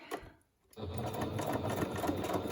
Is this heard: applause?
no